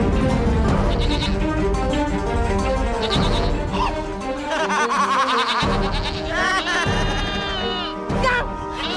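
Several goats bleat in wavering, quavering cries over a busy musical background, with a voice speaking in between.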